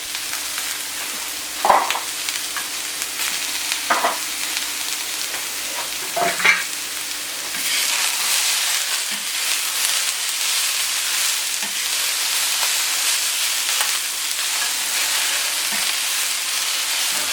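Spring onions sizzle on a hot plancha grill at 225 degrees, a loud continuous frying hiss that swells after a few early scraping and placing sounds, close up and with no voices.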